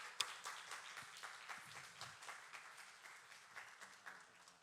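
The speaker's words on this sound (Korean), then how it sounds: "우리 박수하겠습니다" A congregation claps at an evening Monday worship service in Daejeon, steady applause of many hands, fairly quiet and distant, holding evenly throughout.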